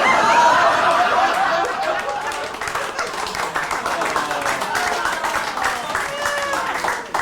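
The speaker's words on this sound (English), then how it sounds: "A very weird point for you all to applaud it right" A comedy club audience applauds, loud at first and then easing into a steady patter of claps with scattered laughter and murmuring throughout.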